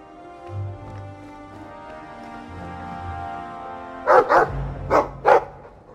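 A dog in the Dragon Age 2 video game barks four times in quick succession, loud and close, following a stretch of soft background music.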